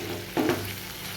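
Food for a vegetarian kakrol paturi, mixed with tomato ketchup, stirred in a pan over a low gas flame: one brief scrape over a faint, steady sizzle, close and quiet, no talking.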